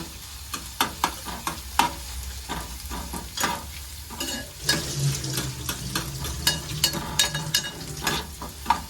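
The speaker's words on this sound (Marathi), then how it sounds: "कांदा मस्त इथे पोळून घ्यायचा लाल करायचा थोडा" Chopped onion frying in a pan, browning to a reddish colour, with a steady sizzle under repeated sharp scrapes and taps of a spoon stirring through it, close and fairly loud, no voices.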